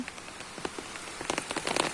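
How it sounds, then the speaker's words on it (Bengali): Steady patter of rain striking a radish field, with scattered louder drops growing denser toward the end; no voices. "আবার দেখেন এই যে বৃষ্টি আসলো"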